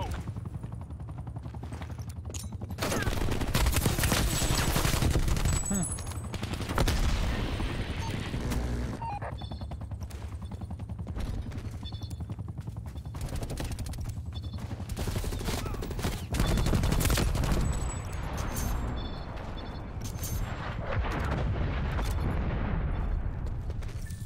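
Gunfire in Call of Duty: Black Ops Cold War: dense bursts of automatic and rapid shots crackle in loud clusters over a constant low rumble, with brief lulls between volleys and occasional voices mixed in.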